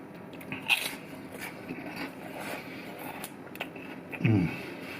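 Prawn crackers served alongside nasi goreng are bitten and crunched close up, with a couple of distinct crisp crunches separated by quieter chewing, and no talking.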